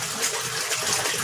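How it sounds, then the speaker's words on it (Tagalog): Water from a minor leak in a koi pond filtration unit trickles steadily, a soft continuous splashing and dribbling with no voices. "Minor leak lang naman po siya guys. Patulo lang po yung bagsak ng tubig."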